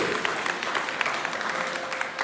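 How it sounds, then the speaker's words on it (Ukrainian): An audience at a start-of-school-year ceremony applauds steadily, a dense patter of many hands at moderate distance, fairly soft throughout. "Оплески"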